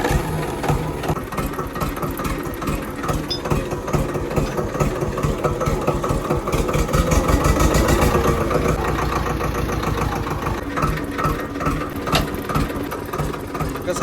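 Tractor engine idling close by with a rapid, steady chugging pulse and mechanical clatter that swells slightly midway, a voice speaking briefly over it.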